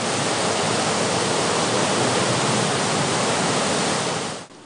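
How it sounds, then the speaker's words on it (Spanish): The swollen Río Silao rushes fast, a dense, loud, unbroken wash of flowing water that stays constant and then dips briefly at the very end. "pero sí está fluyendo muy rápido"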